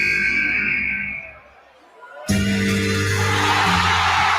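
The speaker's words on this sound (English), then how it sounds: "Listen to that crowd" A packed arena crowd at Royal Rumble 2008 erupts into a loud, sustained roar for a surprise entrance, swelling suddenly after a brief quieter dip and holding dense and noisy to the end.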